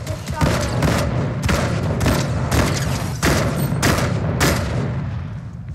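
Shotgun blasts in the Fortnite video game, about seven heavy booming shots spaced roughly every half second to second, loud and punchy with game noise filling the gaps.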